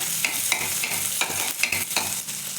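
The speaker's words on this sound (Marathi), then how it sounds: "तेल व्यवस्थित गरम झालं आहे जिरे मोहरी टाकून घेऊ मिरची पण टाकून घेतली आहे" Cumin, mustard seeds and green chili crackle in hot oil for a potato dish, a close, continuous sizzle dotted with sharp pops and spatters.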